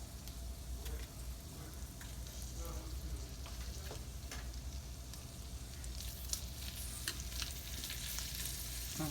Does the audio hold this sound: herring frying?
yes